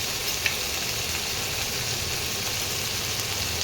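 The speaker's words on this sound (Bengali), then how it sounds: "এই আলুগুলোকে একটু লাল লাল করে ভেজে নিতে হবে" Potatoes fry in hot oil seasoned with turmeric and salt, giving a steady, close sizzle and crackle that stays even throughout, with one small pop near the start.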